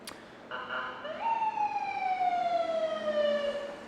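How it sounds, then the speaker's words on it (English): An ambulance siren sounds nearby, one clear sustained wail that slowly drops in pitch, loud and alone without voices. "That was an ambulance"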